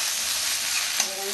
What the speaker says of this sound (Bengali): এবার দেবো ঝিঙে